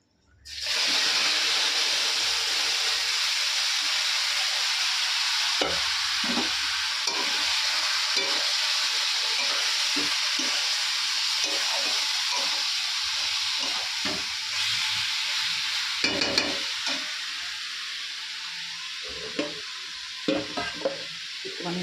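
Chicken frying in a kadai with whole garam masala and bay leaves gives a loud, steady sizzle throughout, broken by scraping and clinking as the pieces are stirred.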